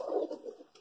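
Racing pigeons give soft, low cooing calls at close range, a warbling burst followed by a couple of fainter coos, with no voices.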